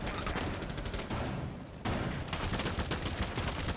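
Rapid automatic gunfire crackles during a Rainbow Six Siege esports gunfight involving Zofia. Quick bursts of shots pause briefly mid-way, then resume in sharp, fairly quiet volleys with no talking.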